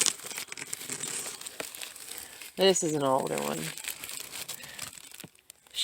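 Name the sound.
plastic bag crinkling while handled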